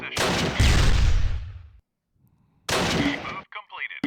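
Gunfire from a pot shot at a tank in the WWII strategy game Close Combat: two loud, close blasts, each with a booming tail, separated by a short silence and followed by a few softer clicks.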